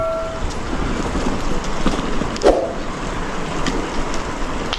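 Steady wind rushes across an open microphone outdoors, a broad constant roar with a brief gusty bump midway.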